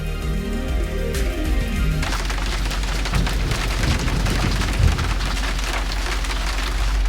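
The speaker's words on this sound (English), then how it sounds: "So it's getting like stormy, like really stormy" Rain and thunder from a storm on an Idaho trail: a dense, steady patter of heavy rain with low rumbling, loud and continuous, with no voices.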